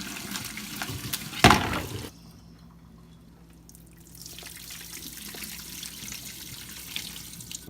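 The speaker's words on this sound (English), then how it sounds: "The next step is we'll be draining the kale" Water from boiled kale is drained, pouring in a brief loud splash that quickly trails off into faint drips and trickles in a quiet kitchen.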